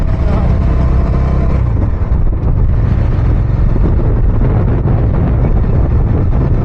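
A vehicle drives along a village road near Satara. A loud, steady engine rumble mixes with strong wind buffeting for the whole stretch, and a voice is faintly present.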